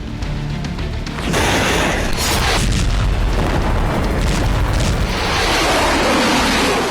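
A deep, loud explosive boom erupts after a quieter second, followed by a sustained roaring rumble and crackling debris that fills the rest of the clip.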